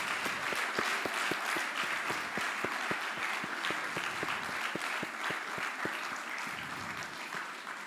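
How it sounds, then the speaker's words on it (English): Audience at a career expo launch claps steadily, with one close pair of hands beating a regular rhythm over the broader crowd applause, which eases off toward the end. "Please clap like we gave you soda."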